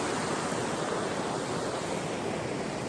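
A snowmelt-swollen river at a trail crossing on the way to the Ivanovskiye lakes near Priiskovoye, Khakassia, rushes loudly and constantly, a thick unbroken roar of water with no voices.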